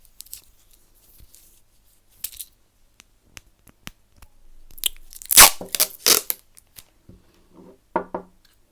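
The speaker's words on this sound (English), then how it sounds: "now I'm going to put the tape on." Adhesive tape pulled and torn from a roll while wiring a Percher, a few sharp ripping bursts near the middle amid scattered small handling clicks, close and fairly loud, with no voices.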